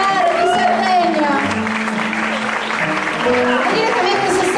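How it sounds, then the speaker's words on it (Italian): An audience applauds a storyteller at an Italian storytelling event, the clapping loud and continuous throughout, mixed with voices and some tonal background sound. "un applauso per le storie di Mare di Sardegna"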